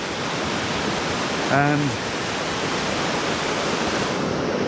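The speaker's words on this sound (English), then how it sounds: "hear me above the noise of the stream" A mountain stream beside the Grey Creek Pass road in British Columbia gives a steady, loud roar of rushing water, and someone says one short word over it.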